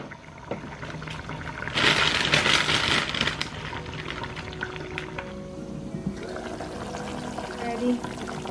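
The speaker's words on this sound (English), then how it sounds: "I will add the sinigang mix." Sinigang mix is tipped into a cooking pot with a short, loud pouring rush, followed by softer clinks and kitchen handling noises, with someone speaking over parts of it.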